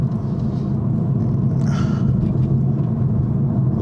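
A 2023 Toyota GR Supra with a manual gearbox drives on a track, its engine a steady, throaty low rumble heard from inside the car, with a brief brighter rise in the middle and no talking.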